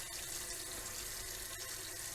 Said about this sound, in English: Now, if you're wondering why the water is running, it's because I'm trying to get the water hot.